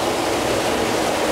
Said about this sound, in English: There's a river!